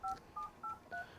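Four quick, evenly spaced beeps from a phone keypad being dialed, faint and clear with brief pauses between each tone.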